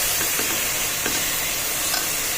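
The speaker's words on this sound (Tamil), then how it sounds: "இப்போ இதை நல்லா பச்சை வாசனை போக இதை நல்லா வதக்கிக்கலாம்." Onion, tomato, green chili and ginger-garlic paste sauté in oil for a biryani, a loud continuous sizzle close by with soft stirring scrapes throughout and no talking.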